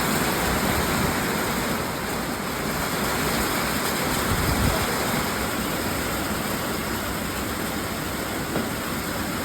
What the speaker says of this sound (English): here came the rain